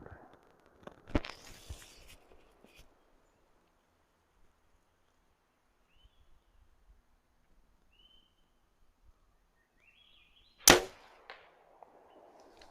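Two sharp gunshots ring out at a shooting range, one near the start and a louder one near the end, with quiet stretches and faint movement between them.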